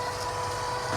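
A snow cannon runs at the summit of run 12 on Dovha mountain at the Bukovel ski resort, giving a steady, loud, broad rushing roar with no break.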